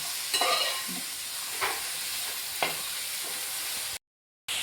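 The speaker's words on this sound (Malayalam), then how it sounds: "കറിവേപ്പില അരി ഇത്രയും ചേർക്കാം നന്നായി ഇളക്കി കൊടുക്കുക" Curry leaves and rice stirred in a hot pan for a Kerala-style prawn roast, a soft steady sizzle with three scattered stirring scrapes, ending in a sudden brief silence.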